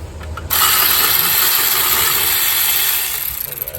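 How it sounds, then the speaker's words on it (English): An electric ratchet working a bolt on the wheel hub of a 2006 Buick Rendezvous, a steady loud mechanical whir that starts abruptly and runs for about three seconds before easing off. "now I'll go ahead and put that on my electric ratchet"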